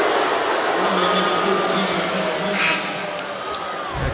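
Arena crowd at an Oklahoma vs Texas Tech college basketball game, a steady loud roar of disapproval filling the whole stretch, swelling briefly before settling slightly lower.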